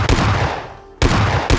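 Explosive bursts of gunfire or a grenade blast in a PUBG match ring out loud and close, one heavy burst decaying for almost a second before two more sharp reports follow in quick succession.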